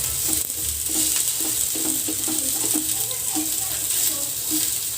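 Tandoori chicken fries and browns in a pan over a high flame, giving a steady close sizzle with soft scraping stirs throughout.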